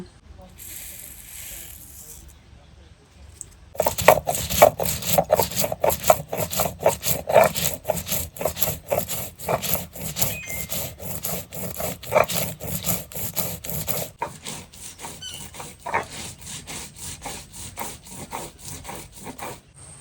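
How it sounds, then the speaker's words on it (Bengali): Whole spices, peppercorns among them, are ground by hand on a grinding stone, a rhythmic back-and-forth rasping scrape repeating steadily at close range, starting after a quiet opening. "সমস্ত মশলাগুলো বেটে নিচ্ছি"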